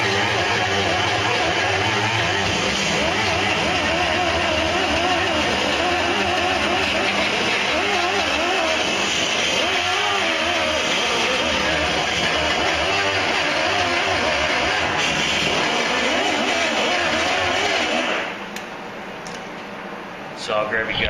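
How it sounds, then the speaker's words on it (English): Wire wheel scrubbing weld spots on the rusted body of an Acura, a loud, continuous, close whirring and scouring noise that runs for most of the time, then stops abruptly near the end. "I'll clean up my welds real quick with the wire wheel."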